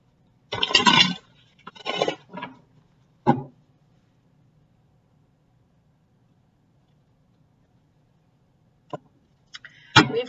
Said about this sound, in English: One more shuffle and then I'll cut for you.